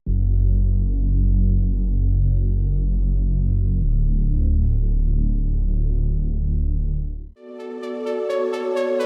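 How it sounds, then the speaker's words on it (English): A thick, wide, wobbling Reese bass drone fills the low end for several seconds in an electronic track's breakdown, then cuts out abruptly as bright, rhythmic synth stabs take over. "the Reese bass, a thick, moving bass that sounds wide and fills the low end"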